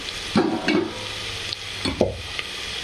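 Onions fry in a pan for ghugri, a dried pea dish, with a faint sizzle beneath several distinct clattering scrapes of a spoon stirring close by.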